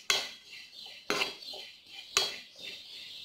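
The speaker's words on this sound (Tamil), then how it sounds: "ஜீரகமும் நல்லா வாசம் வர வரணும் வறுத்துக்கணும்." Cumin seeds are dry-roasted in a pan for homemade masala powder, with three evenly spaced, sharp scraping strokes of a metal spoon and light rattling of the seeds between them.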